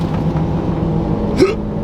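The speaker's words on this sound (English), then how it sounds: "Oh, I got the hiccups." A single short hiccup from a person inside a vehicle, a brief sharp catch of breath heard over the steady low drone of a moving four-wheel drive on Fraser Island.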